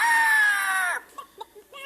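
A woman imitates a bird with her voice, a loud, sustained high warbling crow that slides slightly downward for about a second, followed by a few short, fainter chirps and clucks.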